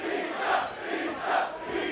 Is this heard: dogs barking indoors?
no